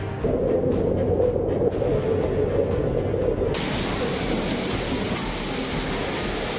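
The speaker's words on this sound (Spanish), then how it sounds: "Lluvia histórica en la Ciudad de México." Heavy rain pouring in Mexico City, a dense, loud, continuous hiss and roar that thickens sharply partway through and keeps on without pause.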